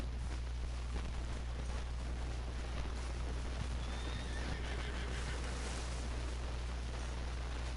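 A horse neighs and whinnies in a video game, a high shrill call over a steady hiss of background noise.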